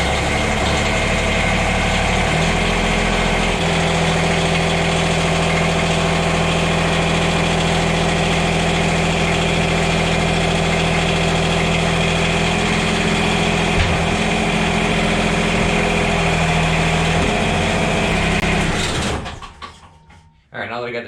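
A Kubota BX compact tractor's engine idles steadily and loudly up close while the front loader lifts, a constant drone that cuts off abruptly near the end.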